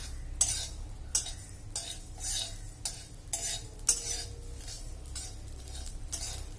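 A utensil stirs popping amaranth (rajgira) in a pan with repeated scraping sweeps at a steady pace, while a soft sizzle and faint crackle run underneath.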